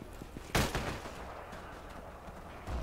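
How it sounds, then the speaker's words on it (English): K98 rifle fire in Forgotten Hope 2: one sharp, loud gunshot followed by a short echoing tail, then fainter distant shots and quiet background. "there's still K-98 fire near Northfield"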